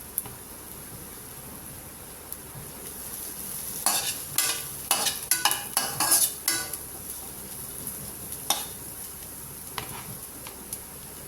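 Brief crackling sizzle of curry leaves dropped into hot oil, a cluster of sharp pops and spatters over a few seconds, then quieter occasional crackles.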